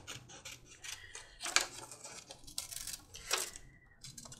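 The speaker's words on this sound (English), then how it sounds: "I'm gonna go ahead and trim off the pattern to the next line, which will be our front piece." Leather pattern piece for a meat cleaver sheath being trimmed, with short rasping, scraping cuts repeating every second or so, close and fairly quiet, with no voices.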